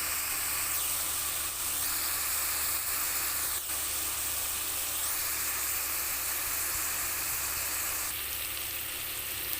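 Soya chunks and green peas sautéing in oil in a pan, giving a steady, loud sizzle and hiss that runs unbroken throughout with faint scraping now and then, no voices.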